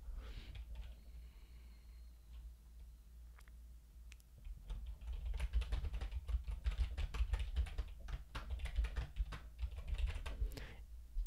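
Typing on a computer keyboard, a steady run of close, crisp key clicks that grows busier and denser in the second half, heard alone without speech.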